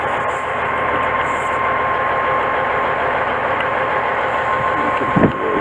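A truck's air bag suspension leaks with a continuous broadband hiss of escaping air, steady and fairly close, over a low idling-engine rumble, ending with a brief knock.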